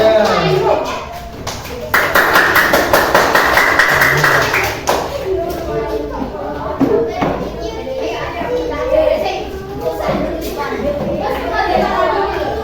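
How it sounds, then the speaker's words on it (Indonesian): Classroom of children clapping for a presenting group, a burst of quick hand claps near the start followed by lively kids' chatter and scattered taps, close and fairly loud. "tepuk tangan buat kelompok 3"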